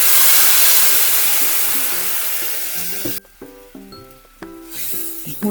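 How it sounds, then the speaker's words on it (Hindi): Ground tomato hits hot oil in a pan with a loud, broad sizzle that slowly fades over about three seconds, followed by light background music. "ऑयल गर्म हो गया है, गैस को सिम कर देंगे। अब हम इसमें ये पिसा हुआ टमाटर ऐड करेंगे।"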